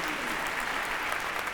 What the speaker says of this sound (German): Applaus für ihr Lied